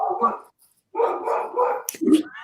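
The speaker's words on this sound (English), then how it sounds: "Does he bark at squirrels?" A pet dog gives a few barks close by, with a short gap, and a person's voice is also heard.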